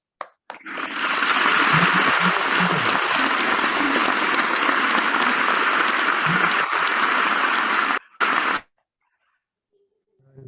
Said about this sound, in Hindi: बुलाते हैं तालियों के गड़गड़ाहट के साथ